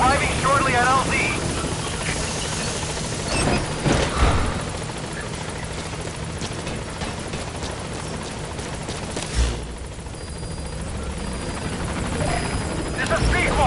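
Helicopter Pequod in Metal Gear Solid V arriving at the landing zone, its rotor drone steady and loud throughout, with bursts of gunfire and a voice speaking over it.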